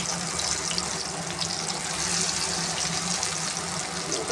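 Small black masoor lentil pakoras dropped by hand into hot ghee in a frying pan on the stove, a steady hissing sizzle that stays even and close throughout.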